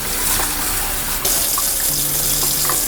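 Sushi rice is rinsed in water for a fourth time, with a steady rush of running and sloshing water close by and no talking.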